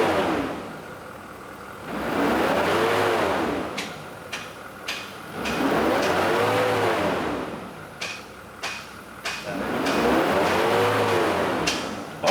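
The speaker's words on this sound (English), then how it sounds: "try to rev it a little bit more" A Ford F250 with a 6.7L diesel engine, run after DEF fluid got into the fuel tank, revs up in three long surges with quieter idle and mechanical clicks between them, close by.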